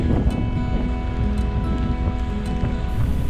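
Wind and rain at sea from aboard a boat, a continuous rushing hiss and buffeting against the microphone with a low engine hum beneath, no voices.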